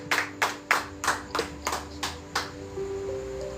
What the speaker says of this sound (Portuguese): Vamos receber o mensageiro dessa noite com palmas para Jesus